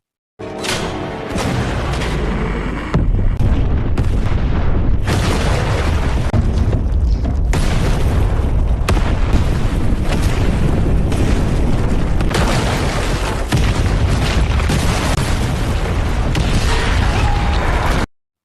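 A long, loud sequence of deep booming blasts and rumbling debris from a tunnel explosion, with sharp bursts and crashing that roll on continuously before cutting off abruptly.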